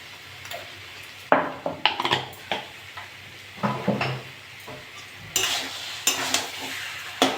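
A spatula stirs taro leaves with prawns in a pan, scraping and clattering in repeated bursts over a soft, steady sizzle, close and fairly loud with no talk.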